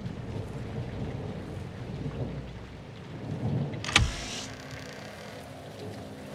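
Steady rain falls throughout in Call of Duty: Modern Warfare II (2022) with a low rumbling bed, broken near the end by a sharp, loud thunder crack that fades into a lingering rumble.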